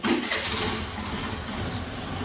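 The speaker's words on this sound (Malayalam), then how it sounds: "നമ്മളതൊന്ന് ചെക്ക് ചെയ്യാനായിട്ട് വണ്ടി ഒന്ന് സ്റ്റാർട്ട് ചെയ്ത്" A Honda Activa scooter with a self-start and battery complaint fires up and settles into a steady idle, the engine running close and fairly loud with no speech.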